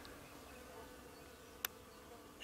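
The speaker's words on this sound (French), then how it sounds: "Là on les entend dans les arbres fruitiers, ça bourdonne." Faint, steady buzzing of honeybees in flowering fruit trees outdoors, soft and continuous, with one brief click partway through.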